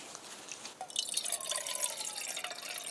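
Water poured over noodles outdoors, a trickling, splashing pour that starts faint and grows steadier and brighter, heard alone without talk.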